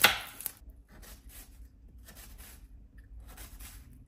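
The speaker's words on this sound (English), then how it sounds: "now we're chopping up some onions for the eggs" A knife chops onions on a cutting board in a quick, steady series of soft thuds, fairly quiet and close.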